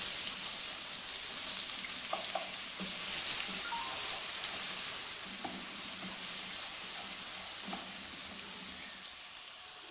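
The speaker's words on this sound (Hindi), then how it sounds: "अभी इसके अंदर हम लहसुन का पेस्ट ये डाल देंगे। 2 मिनट के लिए ये फ्राई कर लेंगे।" Garlic paste sizzling and frying in a hot pan for a chicken korma, a continuous dense crackle with occasional stirring scrapes, steady and close, with no talking.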